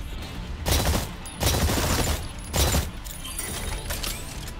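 Bursts of rapid gunfire from the shooter game Exoprimal, three loud sustained volleys with short gaps between them and lighter shots trailing off, no voices.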